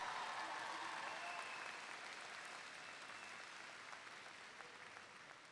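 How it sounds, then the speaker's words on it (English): High school graduates applauding their families at a graduation ceremony, a broad, distant-sounding wash of clapping in a large venue that slowly fades, with faint crowd murmur underneath. "Students, give a big round of applause to your parents, grandparents, aunts, uncles, friends."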